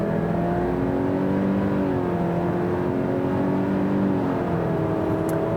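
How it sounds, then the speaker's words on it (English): A 2019 Subaru Ascent with a 2.4-liter turbo engine is floored from a roll, a steady engine drone building under a whirring note and holding loud and close for several seconds inside the cabin. "There's no sport mode, you just kind of floor it. And it's a little laggy at first."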